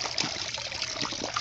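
Water trickles steadily onto a canvas-type British Forces Millbank filter bag, a continuous close, moderately loud wet patter with small splashy bursts and no talking.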